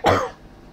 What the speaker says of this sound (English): Sorry to cough so heavily.